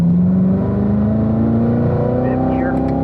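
A Corvette race car leaving the pit lane gives a loud, steady engine drone with a slowly rising pitch, heard close up, and a voice talks over it.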